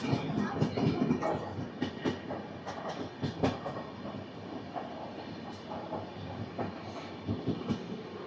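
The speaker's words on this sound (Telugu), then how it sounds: "ఒక 2 మినిట్స్ తర్వాత అయితే మన ట్రైన్ అయితే డిపార్చర్ అయిపోయింది" The Satavahana Superfast Express, train 12713 on the Vijayawada–Secunderabad route, pulls out of the station with a steady rumble and rhythmic wheel clicks over rail joints, heard close up from on board, with faint wheel squeal.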